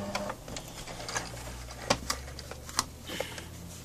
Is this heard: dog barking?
no